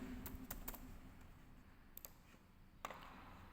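Computer keyboard typed on quietly while writing a short post on a website, giving a few sparse, crisp key clicks in small clusters against a faint room hush, with no speech.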